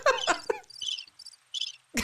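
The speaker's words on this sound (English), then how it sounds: "That's crickets." Crickets chirping as a sound effect, a few short high trilling bursts in a row, with people talking just before and after.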